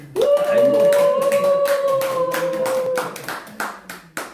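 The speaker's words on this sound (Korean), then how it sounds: "많은 사람은 아니지만 박수를 크게." A small audience at a poetry-writing lecture claps briefly for about three seconds, with a voice over the clapping before it trails off into a few scattered claps.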